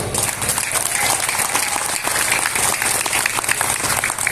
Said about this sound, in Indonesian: keren banser tepuk tangan banser